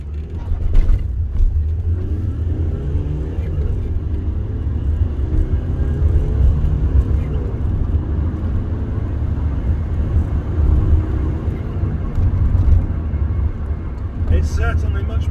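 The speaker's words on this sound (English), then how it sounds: "It's a punchy little car, but that's acceleration from standstill." A small diesel car pulls away from a standstill, its engine rumble rising steadily in pitch as it gains speed, loud and close throughout with a brief clatter near the end.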